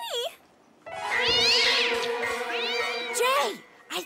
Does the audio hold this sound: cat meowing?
yes